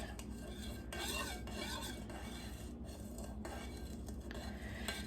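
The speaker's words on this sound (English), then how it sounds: "I am gonna stir until you see that most of the borax has been dissolved" A spoon scraping and clinking gently against a container while stirring a borax solution for a crystal wreath, with rhythmic rubbing strokes close by and no voices.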